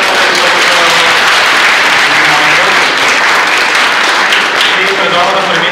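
Audience applause at a cyber security talk in Bulgaria, steady dense clapping filling the room throughout, with a few voices faintly under it.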